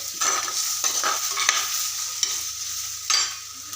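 Crushed ginger and garlic fry in a pan for a traditional river fish curry, with a constant sizzle broken by repeated scraping strokes of a spoon stirring the mixture, close and fairly loud.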